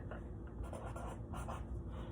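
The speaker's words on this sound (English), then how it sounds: "I write down my known" Pen writing on paper while working out a medication dose, a quiet continuous scratchy scribbling with small strokes, close and faint, no talking.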